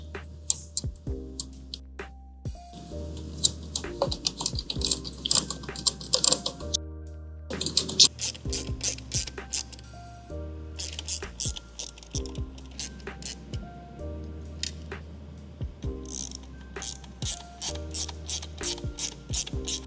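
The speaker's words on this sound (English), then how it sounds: "I'm going to take my screws and start getting those things in there so we can get the headlight held in place." Screws are driven in to mount an XKmax RGBW 7-inch LED headlight on a Jeep. A ratcheting tool clicks in quick bursts and pauses, close and steady, with no voices.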